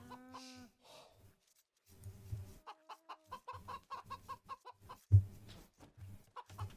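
Chickens clucking in Age of Empires 2, a string of short rhythmic clucks that pulse steadily through the clip, with one sharper loud burst near the end.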